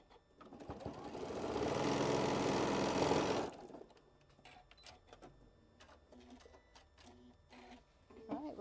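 A sewing machine runs a steady, fast stitching burst as the last edge of a quilt block is sewn, then stops, leaving scattered small handling clicks and taps.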